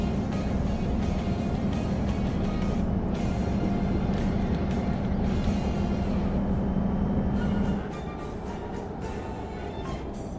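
Steady drone of a truck engine and road noise from a truck simulator game, a loud continuous hum with a lower engine tone that drops away near the end as the truck slows.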